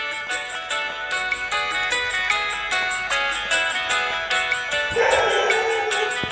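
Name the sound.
dog barking at a temple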